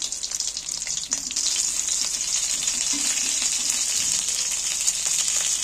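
Rohu fish pieces coated in spice masala fry in hot oil with a steady, loud, hissing sizzle, close up and unbroken, with faint scrapes of a utensil now and then.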